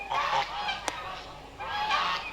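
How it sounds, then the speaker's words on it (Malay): Several geese honk loudly nearby at a zoo in Shah Alam, in two bursts of harsh, nasal calls, separated by a short quieter gap. "sambil dengar bunyi bunyi itik-itik tu semua"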